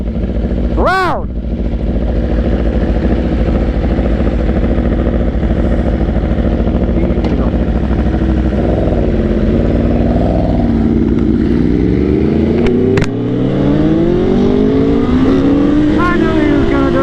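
A loud motorcycle revs hard and accelerates away into a wheelie, its engine pitch sweeping up and down over a continuous roar at a street gathering, with a brief sharp burst near the start.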